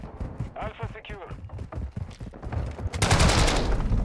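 Video game gunfire during a Search and Destroy match: sharp, rapid shots crackle beneath a talking voice, then a loud, sustained burst of automatic fire closes the clip.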